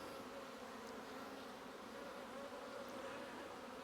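A honey bee swarm buzzes steadily during a hive inspection, a dense, continuous drone of many bees close by with no talking.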